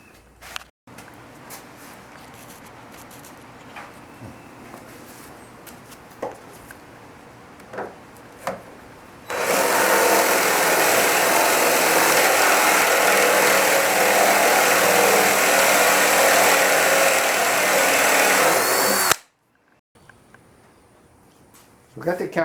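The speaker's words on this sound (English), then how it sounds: "let's drill a hole and see how long my drill lasts" A power drill boring into an old hardwood workbench top whines continuously for about ten seconds, loud and steady, after quieter handling noises and brief knocks; it cuts off abruptly.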